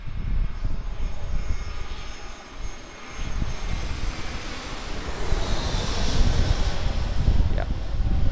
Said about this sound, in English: So you get very, very close to the aircraft at this location.